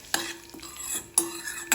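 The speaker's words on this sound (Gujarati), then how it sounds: "બંનેને મસ્ત શેકી લઈશું," Sesame seeds roast in a dry pan as a spoon stirs them in two sharp scraping strokes, each followed by a light rustling sizzle, close and with no speech.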